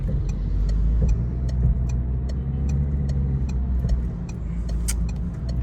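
A Peugeot 301 engine with a sticking clutch pedal is held at steady revs, a low, even hum heard from inside the car with faint ticking clicks, close and constant.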